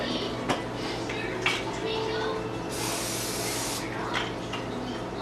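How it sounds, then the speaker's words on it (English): Cooking spray hissed onto a pan in a home kitchen, a short near burst lasting about a second, amid clinks of pans and utensils and a quiet voice in the background. "so you spray the pan"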